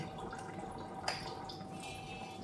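Filtered tap water trickling slowly from a kitchen faucet, a thin continuous running hiss with a single sharper drip or splash partway through, close and quiet.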